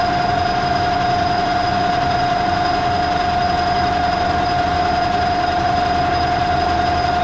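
A cold lathe runs while warming up, a loud steady motor hum with a sharp constant whine and broadband rumble holding unchanged throughout.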